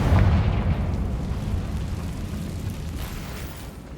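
A Confringo fire spell detonates in Hogwarts Legacy, a loud deep boom right at the start with rumbling low-end that rolls on and slowly decays across the few seconds, no voices over it.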